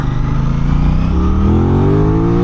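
An Aprilia sport motorcycle engine revs up while riding, a loud close droning tone that climbs steadily in pitch as it accelerates, with no talking.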